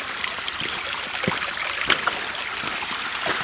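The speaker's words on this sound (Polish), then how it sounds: "Tu jest właśnie ten potok." Mountain stream in the Gorce mountains, flowing steadily as a broad, continuous rush of water with small splashes and trickles, fairly close and alone.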